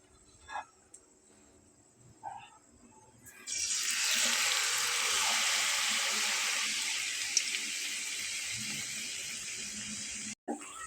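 Flour snack dough drops into deep oil over a low flame, a few soft knocks followed by a sudden steady bubbling sizzle that holds evenly until the end.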